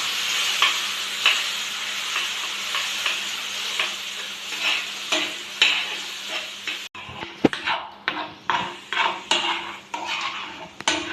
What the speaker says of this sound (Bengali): এইভাবে আস্তে আস্তে নাড়তে থাকবো